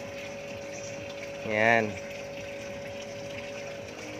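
A modest electric water pump feeds water up to a DIY roof shower on a hot metal roof, giving a steady even hum throughout while a voice speaks briefly in the middle.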